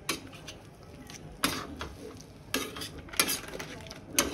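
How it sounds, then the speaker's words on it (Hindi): A spoon stirs and scrapes boiled potatoes in a metal pan for pav bhaji, giving irregular clinks and scrapes with a soft sizzle underneath. No one speaks. "चार बॉईल करे हुए आलू मिक्स कर ले सबको।"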